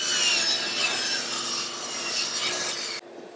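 A handsaw recuts a wooden sled, its rough rasping strokes close and steady for about three seconds before the noise stops abruptly, leaving quiet room tone.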